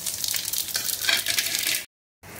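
A bay leaf and whole five-spice seeds sizzle in hot mustard oil in a wok, a steady close crackling hiss that cuts off abruptly near the end and then resumes more faintly.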